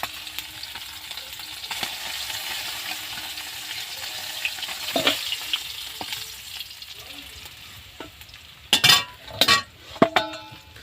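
Koi fish frying in oil over a winter stove, a constant soft sizzle under light clatter, ending in a few loud metallic clinks and scrapes of utensils against the pan.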